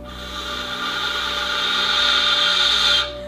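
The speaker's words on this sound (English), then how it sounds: "I'm gonna blow straight, and you're gonna hear this friction sound." Steady breathy friction noise from air blown straight across the rim of a ney flute, a continuous close hiss that holds evenly for about three seconds and then stops abruptly.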